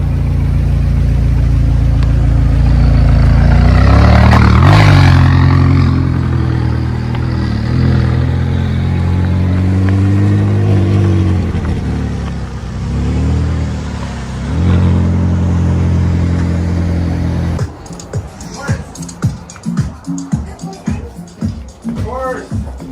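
A McLaren 570S engine revs loudly up close, rising and falling in several surges before settling back, with people talking excitedly nearby and the noise giving way to clattering handling sounds near the end.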